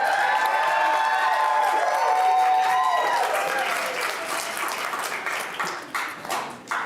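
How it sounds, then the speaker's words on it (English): Audience at a county board budget public hearing applauds, a dense sustained clapping that thins out toward the end, with some voices and murmur mixed in. "so we want to give you a couple of opportunities to applaud."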